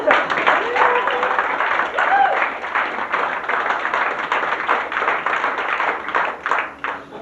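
A fashion show audience gives a model a round of applause, sustained clapping with crisp individual claps throughout and a voice briefly calling out near the start.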